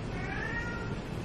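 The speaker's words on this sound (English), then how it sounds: "I don't know if you can hear my cat, but she's saying hello in the background." A pet cat meowing in the background while playing with a toy downstairs, a faint drawn-out cry through a steady room hum, with no talk.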